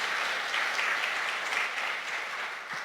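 A church congregation applauds during a Sunday worship service to welcome a missionary, a sustained dense clapping from many hands that holds steady for a few seconds before starting to thin out.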